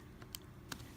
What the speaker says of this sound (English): And so it's typing in the calculator, 7 times 14, divide by 3,